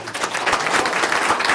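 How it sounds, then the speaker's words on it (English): Audience at a school board meeting applauding, a dense wash of steady clapping from many hands throughout, fairly loud. "How about a round of applause for that?"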